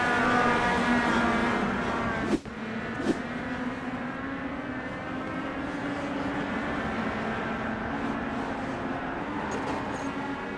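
Race car engines roar steadily through a modified legends open division auto race at Charlotte, a dense continuous drone with a sharp thump near the middle, loud and unbroken, with no talk over it.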